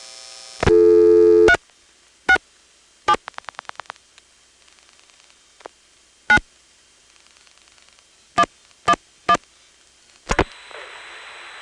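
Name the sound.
Stromberg XY register sender dialing a telephone number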